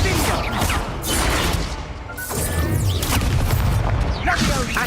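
A Confringo fire spell blasting in Hogwarts Legacy, with several heavy booming bursts and crashes in quick succession, loud and close.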